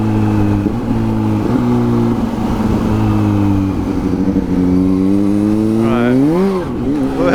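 A Kawasaki Z H2 motorcycle engine drones steadily up close, then its pitch climbs sharply as it accelerates near the end, with a brief spoken word at the start.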